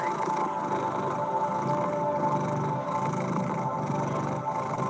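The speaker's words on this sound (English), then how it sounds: "There is magic in a cat's purr." A cat purrs in a low, continuous rumbling vibration, steady and fairly close, with no talking.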